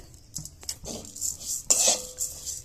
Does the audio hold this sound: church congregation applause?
no